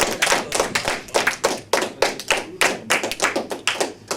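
A small audience claps in uneven bursts of applause, the hand claps sharp and close, rising and falling in loose rhythmic clusters without voices.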